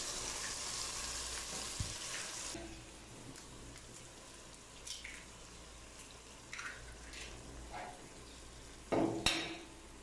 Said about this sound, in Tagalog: They mix egg,